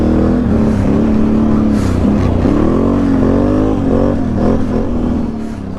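Can-Am ATV on a dirt trail riding past, its engine revving up and down in wavering surges as it goes by, loud and close before easing slightly at the end.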